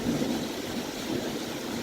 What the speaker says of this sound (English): there was a really heavy downpour, just like it is right now